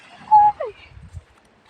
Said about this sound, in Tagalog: Tingnan mo yung aso guys oh.